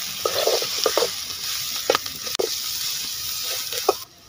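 Ginger garlic paste sizzles in a pan with curry leaves for chicken liver pepper, a steady frying hiss broken by several scraping stirs of a spoon.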